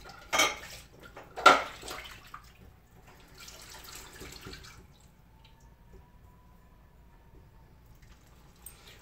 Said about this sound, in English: I'm gonna go ahead and water this down real quick.